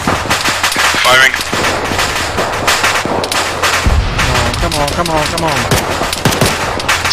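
Arma 3 gunfire during an assault on a heavily armoured position, with loud rapid automatic bursts and scattered single shots close by while voices talk over the battle.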